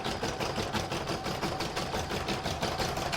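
An embroidery machine stitches fabric held in the hoop, a fast, steady mechanical chatter of the needle with an even rhythmic pulse, close and continuous.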